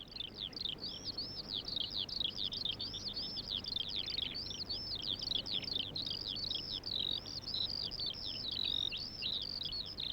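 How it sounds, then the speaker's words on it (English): Birds sing continuously with rapid, high chirping and trilling phrases that repeat without a break, steady and fairly close, over a soft background hiss with no voices. "the birds start to sing"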